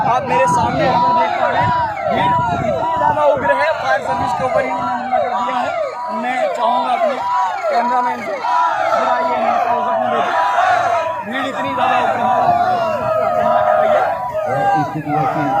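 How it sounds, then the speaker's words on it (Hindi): An agitated crowd shouting and chanting during a police riot-control drill at Agra police lines, a loud, dense, continuous mass of raised voices with rhythmic repeated cries, heard close throughout. "आप मेरे सामने यहाँ देख पा रहे हैं, भीड़ इतनी ज्यादा उग्र है"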